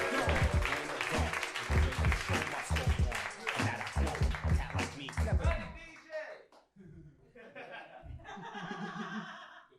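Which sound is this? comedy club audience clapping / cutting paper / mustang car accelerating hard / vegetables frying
comedy club audience clapping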